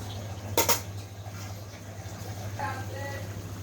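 A metal lid is set onto a cooking pot of rohu fish curry with bottle gourd, a sharp bright clank followed by a second quick rattle, then quiet simmering hum in the background.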